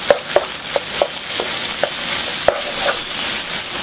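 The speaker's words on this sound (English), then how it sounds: "This black bean paste, add 1/4 cup. And stir fry in the center like this." Black bean paste stir fried in very hot oil, with a bright, continuous sizzle punctuated by sharp scraping taps of the utensil against the pan, close and fairly loud.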